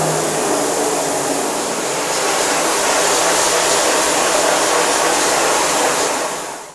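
A pressure washer sprays out a screen printing screen with a loud, steady, rushing hiss that runs unbroken for about six seconds before cutting off.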